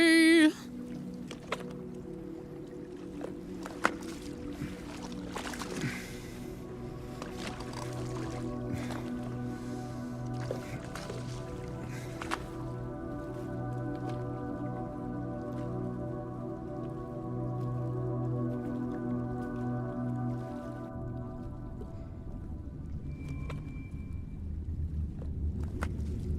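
A rowboat paddled across water in the Silent Hill 2 Remake, with soft repeated splashes and drips under a sustained droning musical ambience, fairly quiet and steady throughout.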